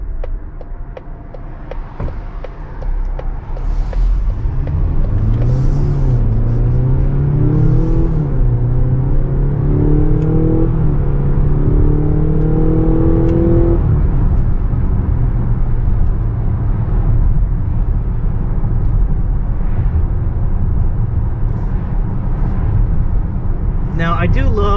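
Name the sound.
Mazda CX-70 PHEV accelerating from 0 to 60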